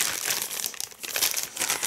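Crinkling of a plastic packet of hulled sunflower seeds, a steady close rustle with bright crackly bursts for about two seconds, no talking.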